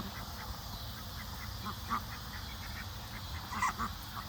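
Ducks, including Indian runner ducks, quack a few times at a moderate distance over a low rumbling background, with scattered short calls.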